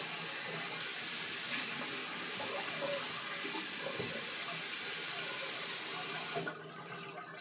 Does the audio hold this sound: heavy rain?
no